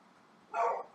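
A dog barks once in the background, a brief, moderately loud burst partway through, with quiet room tone before it and no talking.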